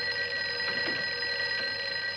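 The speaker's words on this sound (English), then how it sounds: "Why is the phone ringing in that place?" A telephone rings in an old comedy-horror film, Abbott and Costello Meet Frankenstein, a faint, steady bell tone that carries through the whole short stretch with no talk over it.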